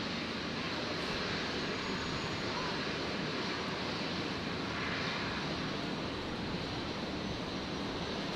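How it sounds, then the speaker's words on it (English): A Qantas Link Dash 8-400 turboprop arriving at Brisbane produces a faint, distant, steady drone, broad and wind-like, with no talk over it. "So Qantas Link 529 arriving from Proserpine. The Dash 8 400."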